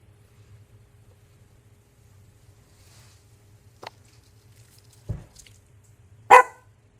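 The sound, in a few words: dog barking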